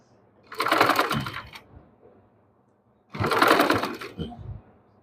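A sewing machine runs in two steady bursts as it stitches lace onto a dress neckline, with a quiet pause between them.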